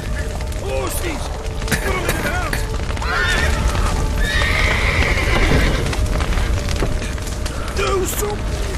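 Horses in the open world of the Witcher 3 whinny loudly several times over a thick layer of game sound, with hooves clip-clopping beneath and a voice speaking over parts of the scene.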